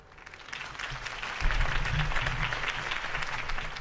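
A crowd applauds after a campaign speech in the Batman: The Telltale Series video game, starting quietly and swelling into loud, sustained clapping with a low rumble underneath.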